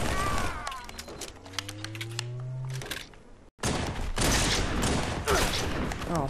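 Rapid gunfire in a shooter video game, first as scattered sharp shots and then, after a brief cutout, as a dense, loud barrage of overlapping bursts.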